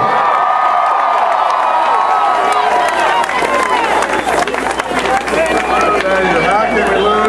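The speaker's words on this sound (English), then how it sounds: "A big cheer for Larry Coco!" A large crowd at the UTSA BestFest 2010 rally erupts in loud, sustained cheering with whoops and clapping, the roar swelling and holding while an amplified voice speaks over it.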